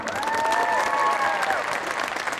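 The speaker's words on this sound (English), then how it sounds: "let's give a round of applause for our host Samson." Audience applause at a NASA Social event at Armstrong, steady and full throughout, a dense room of clapping hands with faint whoops and crowd noise mixed in.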